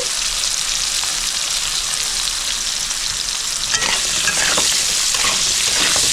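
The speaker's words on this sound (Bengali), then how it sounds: "লাউটাও আমি হালকা লাল করে ভেজে নেব।" Bottle gourd pieces fry with salt in a pan, giving a loud, continuous sizzle and hiss, with scraping stirs and bursts of crackling partway through.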